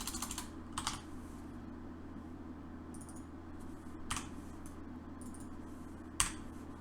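Computer keyboard typing while coding a browser-based game: short clustered bursts of clacking keys separated by quieter gaps, close and moderately loud over a steady low hum.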